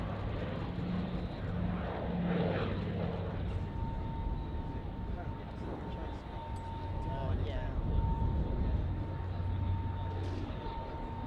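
A propeller aircraft flies at the Duxford Battle of Britain Airshow in 2025. It makes a broad, steady engine drone that swells and fades slightly over the stretch, with people talking nearby throughout.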